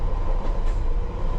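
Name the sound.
train passing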